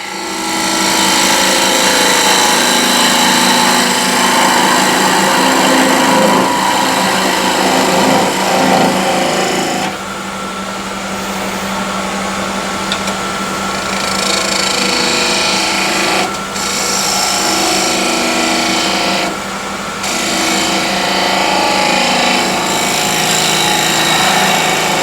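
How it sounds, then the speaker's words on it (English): A wood lathe spins a salt shaker blank while a 10mm spindle gouge cuts, giving a steady loud whirring drone with scraping texture that eases slightly partway through, with brief dips in the cutting noise. "10mm spindle gouge."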